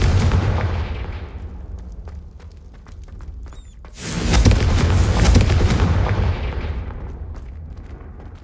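Confringo explosive spell cast in the video game Hogwarts Legacy, a loud booming blast that swells suddenly midway into a heavy, rumbling explosion after an earlier thudding impact and fading rumble.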